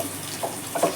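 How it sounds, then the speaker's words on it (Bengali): Water poured into a pan of doi potol, pointed gourd cooked in spiced yogurt gravy, makes a quiet, steady splashing hiss with a couple of slightly louder gushes near the end. "এটাকে একটু জল দিয়ে ভালো করে কষিয়ে নেব।"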